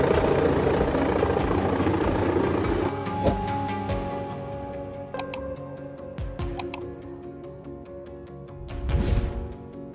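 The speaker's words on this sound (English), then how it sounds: "Cargo helicopter on Clay Street just lost its cargo." A cargo helicopter flies over Clay Street. Its loud, broad rotor rumble fills the first few seconds, then fades, leaving scattered clicks, a steady tonal hum and a brief swell of noise near the end, with no talking.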